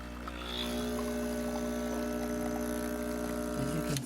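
A Breville BES840XL espresso machine pulling a test shot after a full tune-up, giving a steady low pump hum and buzz that holds constant throughout, with a brief shift in tone right at the end.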